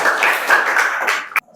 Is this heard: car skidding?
no